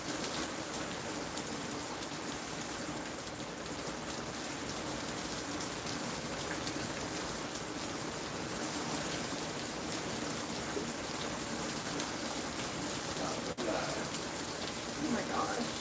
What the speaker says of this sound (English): hopefully you can hear the rain.